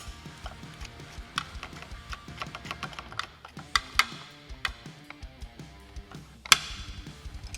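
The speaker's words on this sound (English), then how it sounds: "Tighten it up with 13." Metal nut being snugged with a 13 mm wrench onto a Harley-Davidson touring handguard, giving a run of quick, light clicks and ratcheting taps in an uneven rhythm, close and fairly quiet, with one sharper metallic tick near the end.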